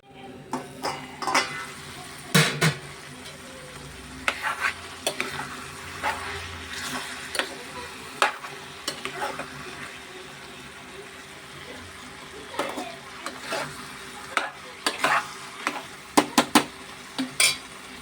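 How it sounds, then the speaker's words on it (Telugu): Curry ingredients fry in a pan with a steady low sizzle, broken by frequent sharp scrapes and clinks of a utensil stirring against the metal, close up. "ఇవి కూడా ఫ్రై అవుతున్నాయి అన్నమాట. అవి కొద్దిసేపు అలా ఫ్రై అవనిద్దాం."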